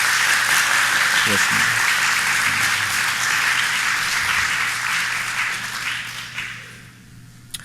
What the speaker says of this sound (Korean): 여러분들이 감사와 격려의 박수를 한번 크게 한번 돌려주시기 바랍니다